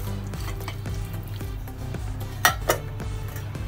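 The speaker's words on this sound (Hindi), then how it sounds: "ये मिक्स कर देंगे चिकन में" Onions being stirred into marinated chicken in a bowl for Hyderabadi chicken dum biryani give soft, close clinks and scrapes of a utensil against the bowl, with a couple of sharper knocks near the end.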